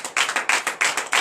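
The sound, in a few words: congregation clapping in acclamation of the Lord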